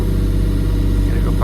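A tracked machine's engine labours steadily as the operator tries to lift it out of boggy mud during a track change, a loud continuous low drone with no break.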